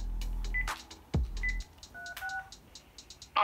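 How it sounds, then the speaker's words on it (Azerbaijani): A run of short dual-tone keypad beeps as a telephone number, a prison's line, is dialed, spaced irregularly against quiet background hiss, with a low thump partway through. "Mən özüm zəng eləyirəm."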